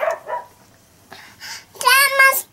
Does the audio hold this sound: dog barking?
yes